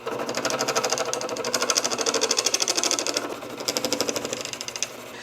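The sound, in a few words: rotary tool running at low RPM on crayon wax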